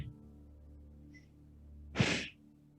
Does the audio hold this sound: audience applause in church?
no